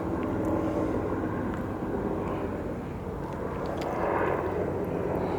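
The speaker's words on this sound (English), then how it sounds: "Outside, you can hear the helicopters circling." Helicopters circle overhead in Culiacán, a steady, continuous low rumble of rotors and engines that swells slightly toward the end, with no talk.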